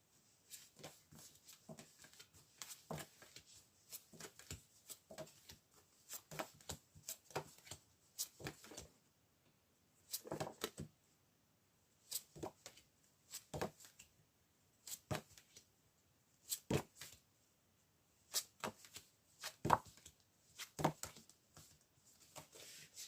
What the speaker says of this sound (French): maintenant, on va tirer des cartes sur la femme tierce